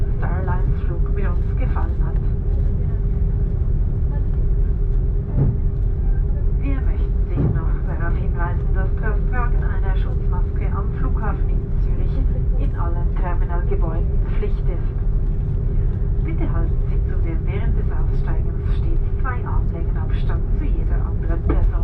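Steady low cabin rumble and a constant hum inside a Swiss Airbus A330-300 taxiing at Zurich airport, with faint clicks and rattles over the drone and muffled speech throughout.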